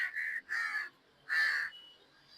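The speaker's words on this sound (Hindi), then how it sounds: "ऊपर कौवे भी इंतजार में" Crows cawing overhead in a garden, three loud harsh caws in quick succession, the third after a short pause, with no talk.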